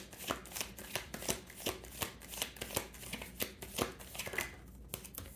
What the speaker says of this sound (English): as I was, shuffling the deck